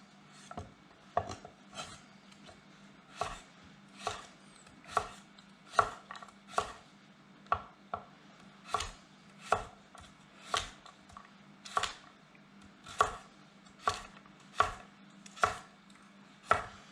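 A knife chops carrots on a cutting board in a studio kitchen, with about twenty crisp, evenly spaced cuts over a low steady hum, close and clear.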